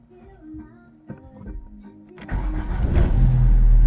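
A 2008 Chery Amulet, left standing for a year, cranks briefly with a starter whir, then catches and its engine swells into a loud, steady running roar close by.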